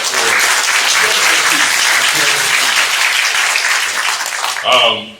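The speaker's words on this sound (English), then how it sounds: "One more big hand of applause" An audience at a high school cross-country banquet gives sustained, dense applause that carries on steadily, then a voice speaks briefly near the end.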